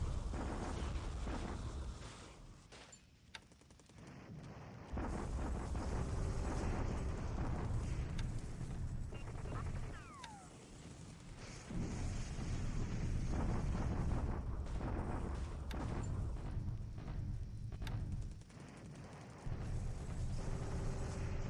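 Bombardment in War in the Pacific plays as long rumbling waves of explosions and booming, swelling and fading across the stretch with brief quieter gaps between heavy, loud bursts.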